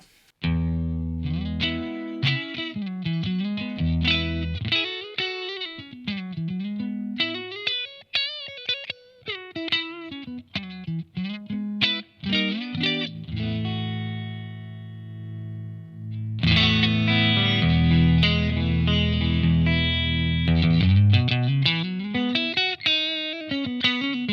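An electric guitar through a tube amp fitted with 6L6 tubes on its USA voicing with reverb, playing glassy, ringing chords and melodic runs that swell and sustain, then a denser, brighter strummed passage, up close with no talk.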